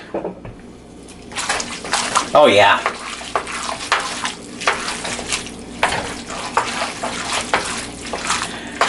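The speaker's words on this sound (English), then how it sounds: "So I'll just pour the whole thing in, which should help me break all of that up." Liquid poured into a pan of tavern noodles and stirred to loosen the sauce, a burst of splashing pouring followed by steady wet stirring and scraping, close and fairly loud, with a brief spoken remark.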